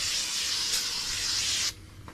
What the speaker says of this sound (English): Alright, non-chlorinated brake cleaner,